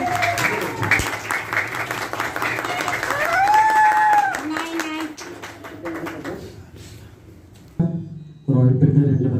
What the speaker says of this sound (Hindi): तालियां बजाएं प्लीज।